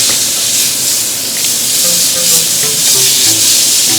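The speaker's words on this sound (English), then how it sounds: "Okay, we're gonna keep flipping that steak." A steak frying in butter in a hot pan gives a steady, loud sizzle and hiss throughout, with faint scrapes as it is flipped.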